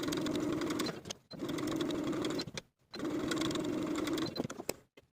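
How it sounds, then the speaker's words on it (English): A sewing machine runs basting stitches along the top of a sleeve at its longest stitch length in three steady, loud whirring bursts, each about a second and a half, separated by short stops, close up with no talking. "we're going to sew basting stitches all along the top of the sleeve, from outer notch to outer notch, using the longest stitch on your machine"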